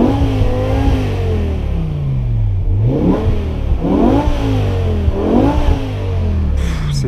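BMW M6 with a V10 engine revving in neutral, three sharp rising blips each falling back to a loud rumbling idle, close and dominant throughout.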